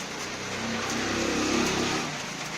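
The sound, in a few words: heavy rain falling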